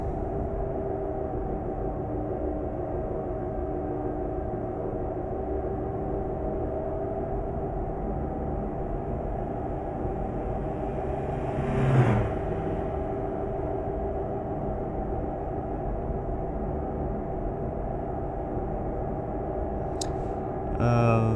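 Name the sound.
Scania truck driving in Euro Truck Simulator 2 video game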